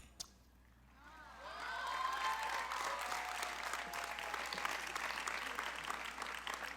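An audience at a high school graduation bursts into applause that swells within about a second and continues as dense, sustained clapping with some cheering mixed in.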